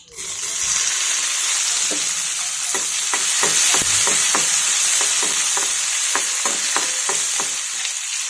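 Chopped tomatoes hit hot oil with garlic and cumin, a loud continuous sizzle in a pan, while a spatula scrapes and stirs in quick repeated strokes throughout.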